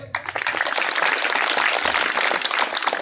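A large audience at a Hindi poetry gathering breaks into loud, sustained applause, dense clapping filling the space with no voice over it.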